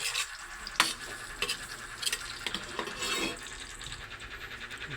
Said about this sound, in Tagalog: Haluin muna natin itong mga buddy